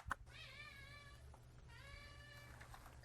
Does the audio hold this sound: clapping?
no